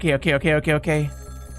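A telephone rings in the video game Ghost Trick, giving five quick electronic trills in a steady rhythm and then falling silent, leaving only a faint background tone.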